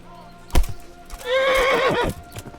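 A horse whinnies with a long wavering neigh in the video game Kingdom Come: Deliverance, preceded by a short thump, loud and close, with no talking.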